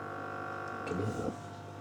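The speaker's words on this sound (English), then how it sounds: "All the timer's buzzing on the Hotpoint really loud." A Hotpoint 9530 washing machine's timer gives a steady, loud electrical buzz with a constant hum running through the whole stretch, while the machine churns softly in the middle.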